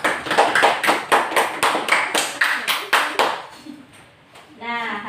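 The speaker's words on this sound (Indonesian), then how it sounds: "Beri tepuk tangan untuk temannya terlebih dahulu." Students in a biology classroom clap in unison for a classmate, about a dozen evenly spaced, crisp group claps in a steady rhythm that stop abruptly before a voice begins speaking.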